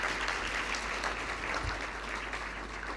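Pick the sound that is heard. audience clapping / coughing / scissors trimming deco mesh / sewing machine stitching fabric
audience clapping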